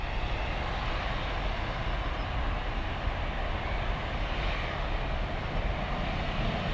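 A jet in rugby livery climbs away from Dublin Airport, its engines a steady, loud broadband roar that holds without a break from start to finish.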